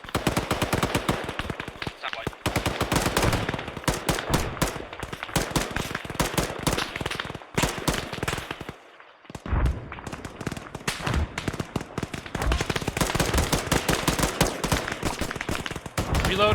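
Rapid automatic gunfire and single shots from an ArmA 3 firefight crackle almost nonstop, loud and dense, with a brief lull before the bursts resume, while voices speak over the shooting.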